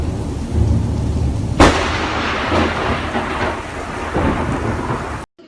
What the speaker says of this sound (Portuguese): Aqui choveu e relampagou. Aqui tá chovendo e repangalejando.